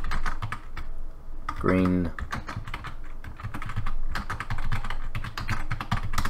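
Rapid typing on a computer keyboard, a busy stream of light clicks running through most of the stretch, with a voice talking briefly partway through.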